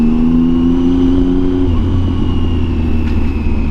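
A Triumph Tiger 800 three-cylinder adventure motorcycle with a Yoshimura exhaust rolls over speed humps in second gear, its loud, close engine note holding steady and then dropping in pitch partway through as it eases off.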